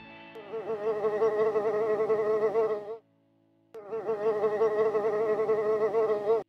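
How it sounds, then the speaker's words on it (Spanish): A housefly buzzes close and steady in two long stretches separated by a brief silence, a bright droning hum with no voices over it. "¡Es una mosca!"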